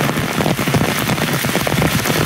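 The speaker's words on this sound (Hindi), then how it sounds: "ये देखें कितना तेज़ पानी है। और ये बारिश देख लें" Heavy rain pours steadily onto a loquat orchard in Haripur Hazara in April, a dense, continuous hiss and patter close by with no voices.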